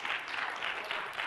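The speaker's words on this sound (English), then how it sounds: "Somebody give God a hand clap." A church congregation claps in a brief, dense burst of many hands, steady and fairly even over a short moment.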